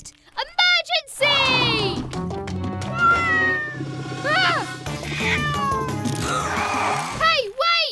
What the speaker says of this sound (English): That kitten must be lost.